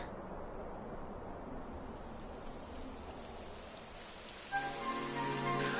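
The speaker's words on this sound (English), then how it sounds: "It would have to go and start raining, wouldn't it?" Steady rain in the video game Dragon Quest patters on a surface in a continuous hiss, joined near the end by a soft musical tone.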